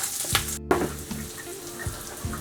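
Spices, chili and garlic frying in hot oil for a street-style bottle gourd and chana dal dish, a steady close sizzle with a few louder crackling bursts and a brief drop out.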